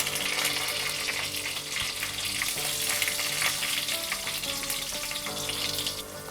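Cumin and green chilies frying in hot ghee in a pan, a continuous soft sizzle with light stirring, no talk.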